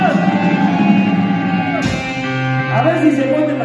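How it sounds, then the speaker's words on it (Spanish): A drunken concert crowd at El Castillo Azul in Atizapán lets out a loud, sustained collective shout that rises and swells around amplified music, packed and near. "quisiera escuchar el pinche grito de los borrachos de Atizapán"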